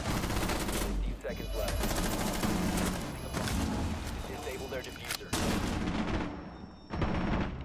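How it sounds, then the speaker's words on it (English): Loud, dense gunfire in Rainbow Six Siege on console, with repeated bursts and sustained automatic fire layered over game sounds, and a player talking faintly underneath. "Oh, nice shot, Alibi. Nice shot."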